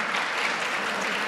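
Sustained applause fills the US Senate chamber, a dense, steady wash of many hands clapping at even loudness throughout, with no voices standing out.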